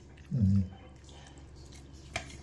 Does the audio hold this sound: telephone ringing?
no